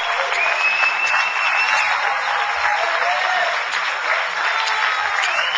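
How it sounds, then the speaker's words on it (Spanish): A congregation claps in sustained, even applause filling a church hall, a dense wash of many hands that holds steady throughout at close range. "Dale un aplauso al Rey bendito."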